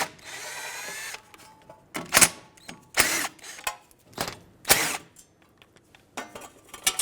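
Power tool whirring in short bursts as 10mm bolts are backed out of the front wheel backing plate on a 2008-2020 Dodge Grand Caravan, with clicks and handling noise between the close, moderately loud runs.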